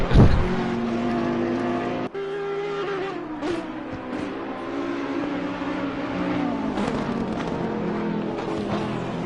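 Race cars competing at Oulton Park roar past loud and close, engines revving and shifting through gears in a sustained howl, with one abrupt dip and a skid-like edge before the noise builds again.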